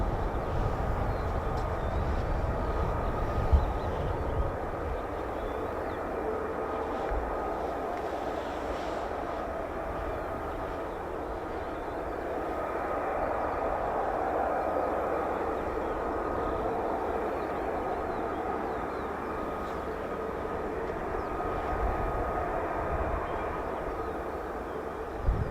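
An F-35B stealth fighter jet climbing steeply at RAF Marham produces a distant, sustained roar that swells gradually and holds for a long stretch as it fades into the sky.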